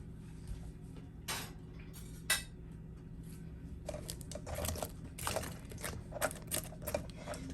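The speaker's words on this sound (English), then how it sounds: "So I'm just going to add a few and toss them in my barbecue sauce." Fully cooked chicken wings being tossed in barbecue sauce: soft clacks and scrapes of utensils against a bowl, with sticky shuffling bursts and scattered clicks at close range and low volume.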